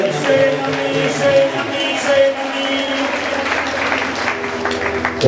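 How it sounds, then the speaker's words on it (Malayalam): A congregation at a Marian prayer convention claps hard and steadily, a dense wash of applause from a large indoor crowd with faint murmuring mixed in. "നല്ല ഈശോയ്ക്ക് ശക്തമായി കൈയടിച്ച്"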